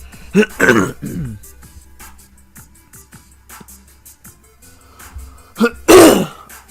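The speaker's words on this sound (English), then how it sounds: "Still trying to clear my throat." Two loud, rough throat clearings, one near the start and one near the end, with quiet pauses and small mouth noises between.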